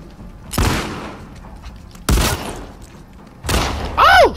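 Gunfire in the video game The Last of Us Part II: three separate loud booming shots spaced about 1.5 seconds apart, the last followed by a brief whistling sweep.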